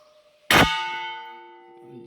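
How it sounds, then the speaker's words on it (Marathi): A very large temple bell at the Siddheshwar temple in Mhapan, Vengurla, struck once with a sharp loud clang that rings on in a long, slowly fading metallic hum. "इथे अतिशय मोठी घंटा आहे बघा पाहू शकता ही बघा आता आपण वाजवूया"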